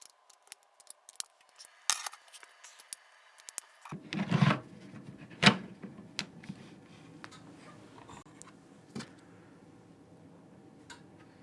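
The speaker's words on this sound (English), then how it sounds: "So hit eject, and it has a tray. So we'll throw some batteries in this" Batteries are loaded into the tray of a Victure HC600 trail camera, producing scattered plastic clicks and small knocks, with a couple of louder snaps and a faint rustle between them, close up and without talk.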